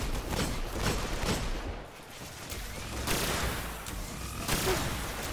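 Fusion rifle firing in Destiny on PS4, with repeated charged energy bursts and gunfire cracks in a hectic firefight, loud and fairly continuous with brief lulls.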